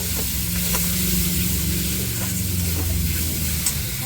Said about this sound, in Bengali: এখন ভালো করে আমি মশলাটাকে কষিয়ে নেব